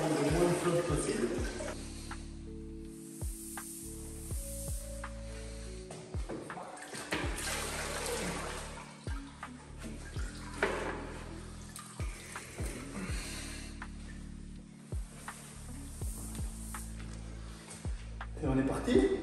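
Clean water sloshing and wiping over a freshly grouted wood-effect tile floor, intermittent wet splashes and wringing under someone talking in French throughout.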